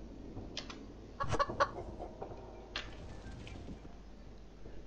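Chicken clucking in the horror video game Evil Nun, a few short clucks clustered near the start over a low, steady game background, fairly faint.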